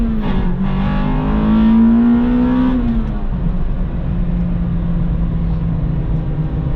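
An Acura RSX Type S with a K20Z1 engine revs hard into VTEC, heard loud and close from the cabin as a rising, strained whine that climbs, then breaks off into a lower, steady drone.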